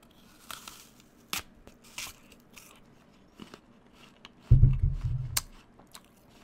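A bite into a crunchy Pink Lady apple gives a loud, close crunch followed by a short burst of chewing, with quiet mouth clicks before it and no talking.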